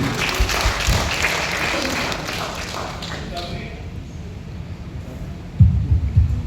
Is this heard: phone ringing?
no